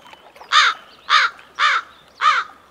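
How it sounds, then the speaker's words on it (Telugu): A crow gives four loud, harsh caws, evenly spaced about half a second apart, clear and close with little else behind them. "ఏంట్రా ఆ కాకి చావు చావు నరుస్తుంది?"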